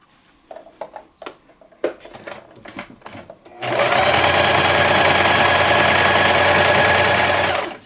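A sewing machine stitching fabric for an embroidered face mask, with a few seconds of clicks and handling noises before the motor starts and runs in a loud, steady, close whir.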